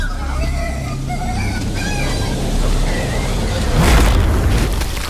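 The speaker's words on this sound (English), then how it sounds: "things being blown apart by grenades and fragments of boxes flying towards you" Grenade blasts in S.T.A.L.K.E.R. 2, a deep booming explosion near the end following rumbling battle noise and scattered clatter, with muffled voices and game sounds underneath.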